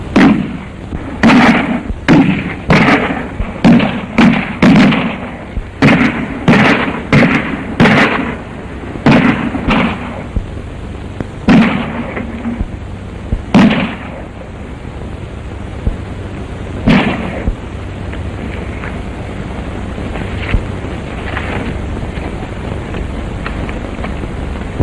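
Sharp gunshots from a 1932 western shootout crack in quick irregular volleys at first, then thin out to isolated distant shots over a low windy rumble.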